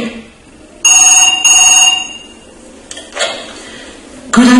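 A telephone rings in two sharp electronic double bursts, loud and close, followed by quieter handling noises and the start of another tone.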